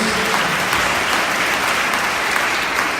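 A church congregation applauds steadily, dense clapping filling the whole stretch without pause.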